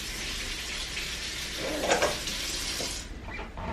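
San Marzano tomatoes are rinsed under a running kitchen tap, a steady hiss of flowing water with brief splashing as they are handled, close and moderately loud, with no talking.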